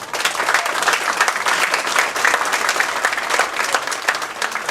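An audience at a high school athletic hall of fame induction applauds the committee, dense, even clapping from a large crowd that holds steady throughout.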